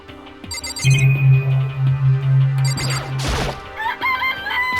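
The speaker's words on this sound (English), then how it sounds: "This place even has chickens, huh?" Rooster crowing and chickens clucking in the Danganronpa: Trigger Happy Havoc video game, a loud drawn-out crow over background music with chiming tones, no talking.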